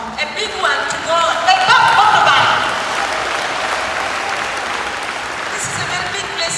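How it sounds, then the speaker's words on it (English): A church congregation breaks into loud hand clapping during a revival sermon, dense applause building then holding steady, with a voice talking over it. "Let us clap for God because and a big hand clap."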